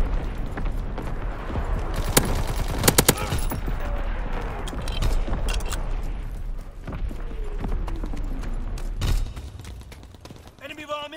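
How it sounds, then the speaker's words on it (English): Rapid bursts of aircraft gunfire from a strafing run in a WW2 shooter, dense and loud, with sharp cracks clustered early on over continuous battle rumble and distant booms, while game voices call out alerts. "Strafing run inbound."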